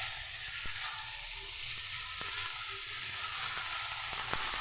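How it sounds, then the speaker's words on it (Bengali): Chopped coriander leaves frying in hot oil, giving a steady, fairly soft sizzle and crackle with occasional light taps of a utensil, and no talking. "ধনিয়া পাতা কুচি দিলাম ধনিয়া পাতা ভাজার জন্য।"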